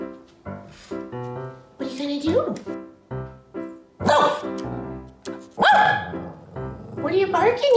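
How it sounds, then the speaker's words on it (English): A small Shih Tzu barks at birds repeatedly in short, yappy bursts with a few whiny yips, close by and fairly loud. "What are you barking at?"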